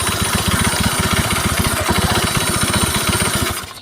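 An automatic scooter engine, restarted after a box-filter wiring fault, idles steadily with a fast, even pulsing chug for several seconds before cutting out near the end.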